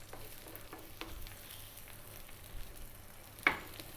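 Chicken fried rice frying in a pan, a low steady sizzle with faint stirring scrapes and one sharp clink near the end.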